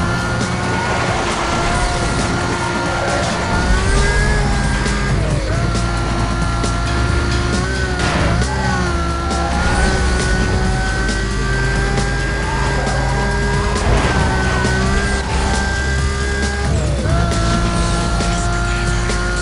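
A car in the racing game Need for Speed Most Wanted roars steadily as it slides, its engine droning loud and continuous with repeated squealing tire tones rising and falling over the whole stretch.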